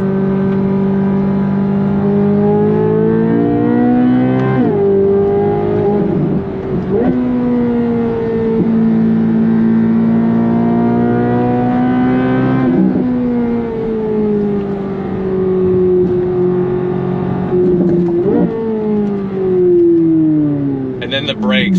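A sports car engine accelerates in second gear on throttle, its loud buzzy roar climbing in pitch, dropping briefly at each shift and then rising again, close and continuous with no one talking.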